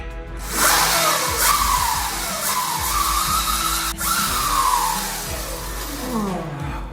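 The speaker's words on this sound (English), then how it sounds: "Time to plug it in and throttle it up." Electric Sur Ronster mini dirt bike being throttled up, a loud continuous motor whine that rises and falls in pitch through repeated revving sweeps, close by with no talking.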